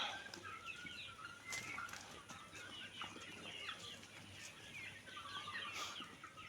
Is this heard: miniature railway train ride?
no